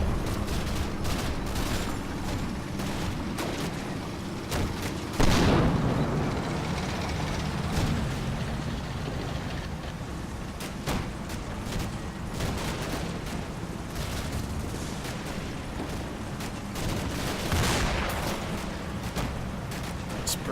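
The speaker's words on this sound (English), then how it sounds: "Is that mortar fire coming down?" Mortar fire in the wargame Combat Mission, with scattered muffled thuds and booms over a steady rumbling battle background, one heavier impact standing out around a quarter of the way in.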